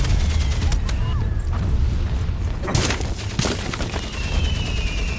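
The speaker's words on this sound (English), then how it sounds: "That's a machine gun." Machine gun fire in the Valiant Hearts World War I game, rapid bursts and booming battlefield blasts crackling through a dense, rumbling wartime din.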